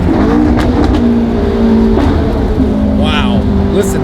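A straight-piped V12 Ferrari engine roars loud and close with a dense, sustained rasping drone and shifting pitch under acceleration, while voices talk over it.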